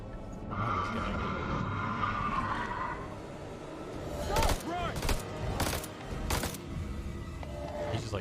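Gunfire striking an enemy in the House of Ashes video game. Several sharp broadband bursts spaced a few seconds apart cut through steady game ambience and music, with people talking over the action.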